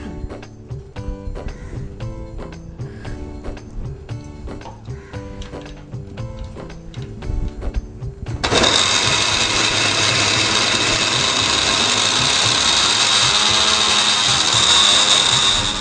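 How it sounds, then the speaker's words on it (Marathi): A kitchen mixer grinder blends padval (snake gourd) seed chutney with salt and a little water. A rhythmic, tonal stretch comes first, then the motor starts abruptly into a loud, steady, whirring grind that runs to the end. "आता हे मी मिश्रण मिक्सरमध्ये टाकते"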